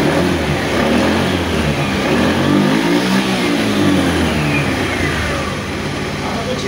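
A fuel-injected motorcycle with a stalling fault runs loud and close, its engine churning continuously and swelling in revs, with no clear talk over it.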